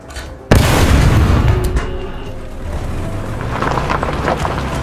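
A tank cannon in War Thunder fires an armor-piercing round with one sudden, loud boom, followed by a long rumbling decay and faint battlefield noise.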